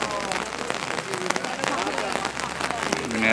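Steady rain patters and drums on nearby surfaces outdoors during a march against Monsanto in Haleiwa, a dense continuous hiss with scattered sharper drop hits and faint background voices.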